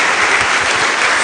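A church congregation bursts into applause during a Portuguese-language sermon, a brief, dense wash of clapping hands that sounds loud and continuous, with no voices heard over it.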